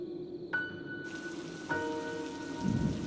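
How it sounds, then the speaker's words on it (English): Heavy rain pouring down outside in an animated story scene, a steady broadband hiss that thickens partway through and carries on without a break, with no voices. "The rain began pouring heavily outside."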